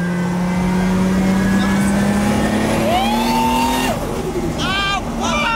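Nissan 350Z engine revving hard while drifting, a rising whine that climbs then drops as gears shift, heard close inside the car with people talking and exclaiming over it.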